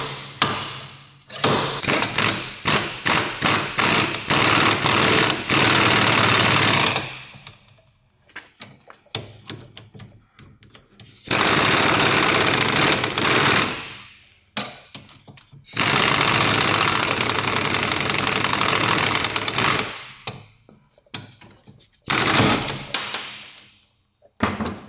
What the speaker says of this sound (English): maybe the slide hammer has now some more force